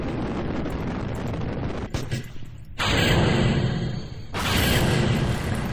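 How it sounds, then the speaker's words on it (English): Rocket engine burning in the spaceflight video game Kerbal Space Program, a continuous roaring rumble that shifts and cuts in and out in loud bursts. "And this engine should soon burn out."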